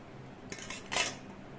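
A few quick metallic clinks and scrapes of utensils against a vessel while rice kanji (the starchy water drained from cooked rice) is strained for a drink; quiet, close and brief, with no talking.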